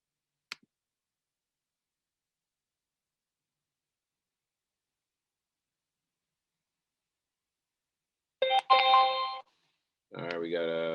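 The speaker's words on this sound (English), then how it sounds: "All right, we got a notification." A trading platform alert chimes during a live trading session: a short bright multi-tone notification burst, then a second tonal chime pattern follows moments later, in an otherwise quiet room after a faint click.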